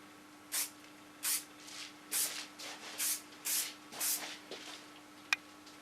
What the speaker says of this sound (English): I use a little bit hairspray.